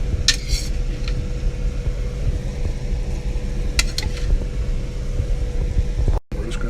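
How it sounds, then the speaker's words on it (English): A spoon scoops shrimp into a pan of sweet, sour and spicy sauce with a low continuous sizzle and rumble, with a few light clinks of utensils against the pan, near and moderately loud. "now we're just going to start scooping our shrimp into our sweet and sour sauce"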